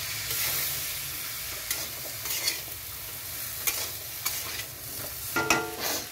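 Greens are sautéed with rui fish roe in a pan, with close, steady frying sizzle and scraping stir strokes that pop up every second or so across the clip.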